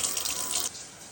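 Water runs from a kitchen tap into a pan for making blackberry jelly, a steady bright gush that cuts off after about two-thirds of a second, leaving a faint room hiss.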